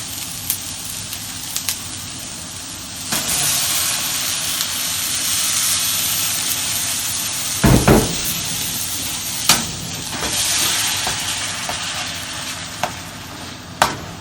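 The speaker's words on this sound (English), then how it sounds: "And we're just gonna let it simmer." Tomato juice and sauce for koshary simmer in a pan with a steady soft sizzle, broken by a few sharp clinks and scrapes of stirring.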